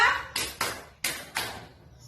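In an Indonesian classroom, fourth-grade pupils clap out a pattern of four crisp, close group claps arranged as two pairs, with a brief voice just before and a quiet pause after.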